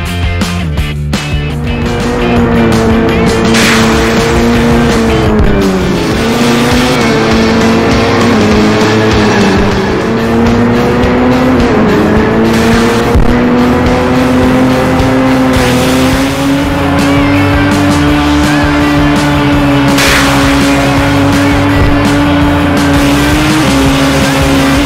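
Engine drone from cars racing in a mobile racing game on Android, a steady loud whine that rises and dips with gear shifts, running throughout with occasional tire squeal and no talk.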